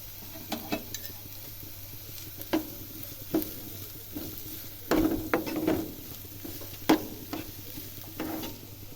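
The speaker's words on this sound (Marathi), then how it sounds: "मी इथं एक मोठा कांदा बारीक चिरून घेतला होता तो सुद्धा चांगला व्यवस्थित तेलामध्ये परतून घ्यायचा" Finely chopped onion sautés in oil for a radish-leaf vegetable dish, giving a faint continuous sizzle punctuated by clear spatula scrapes and taps against the pan at irregular intervals.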